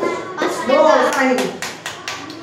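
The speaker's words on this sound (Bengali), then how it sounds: "জোরে হাতে তালি।" Young children in a first-grade classroom clap their hands in a quick burst of several claps right after a voice speaks.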